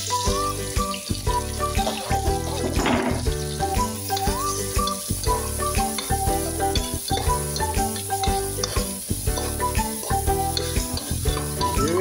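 Onion and ginger fry in a pan, with a steady sizzle broken by repeated rhythmic scraping and stirring strokes at close range, and no talking.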